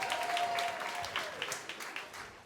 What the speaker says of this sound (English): Give y'all one more clap.